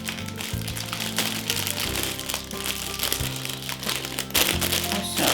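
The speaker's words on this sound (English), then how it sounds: "you just get a cellophane bag or plastic bag, and then just crunch it up" A cellophane or plastic bag crumpled by hand, with dense crinkling and crackling that continues steadily and close by, with no voice present.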